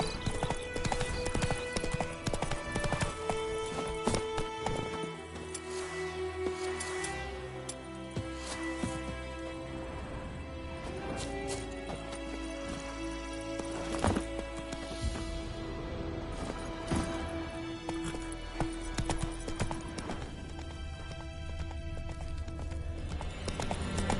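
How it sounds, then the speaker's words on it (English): Roach, Geralt's horse in The Witcher 3 on PS5, gallops with steady rapid hoof clip-clops under layered game music, with an occasional whinny and rider shouts. "Whoa there, Roach"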